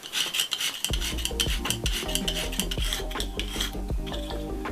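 A knife tip drawn across a coarse Lansky sharpening stone in repeated scraping, rasping strokes, close and distinct. After a brief quiet start, the strokes come in a steady rhythm with no talking.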